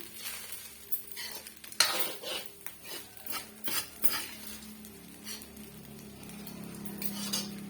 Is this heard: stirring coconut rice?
yes